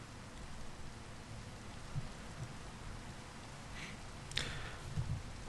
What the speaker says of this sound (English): Let's sleep, get rid of this rain.